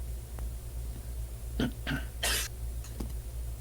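A few short coughs and throat-clearing sputters after swallowing water the wrong way, close by, separated by brief pauses over a low background hum.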